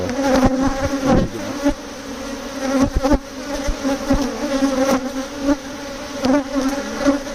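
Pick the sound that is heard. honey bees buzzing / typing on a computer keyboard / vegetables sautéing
honey bees buzzing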